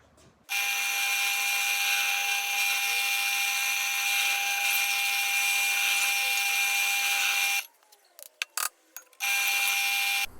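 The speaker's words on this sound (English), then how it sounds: "Now all I need to do is drill a couple of holes in this way" A high-pitched drill whines steadily for about seven seconds while drilling holes in a drill press table, and stops. After a short pause with a few clicks and knocks, it starts again briefly.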